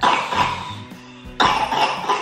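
Two harsh, close coughing bursts separated by a short pause, loud and raspy with no talking.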